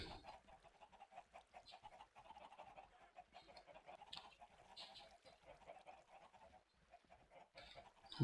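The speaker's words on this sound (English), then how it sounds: "the chickens fight the current for a random period of time" Minecraft chickens cluck repeatedly inside a survival multiplayer chicken processor as a water current pushes them along. The short, quiet clucks overlap throughout, with no talking.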